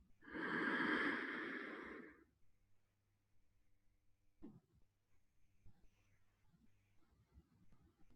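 Deep, forceful breathing during Tummo meditation: a loud, drawn-out breath lasts about two seconds up front, followed by quiet room tone with a few soft thumps and rustles.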